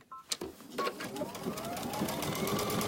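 A sewing machine with an automatic thread cutter stitches buttonholes on a dress, a fast steady whirring hum close by, with people talking over it.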